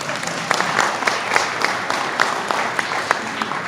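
A community band's concert audience applauds, steady mid-loud clapping from many hands with a few sharper individual claps, lasting a few seconds without talk.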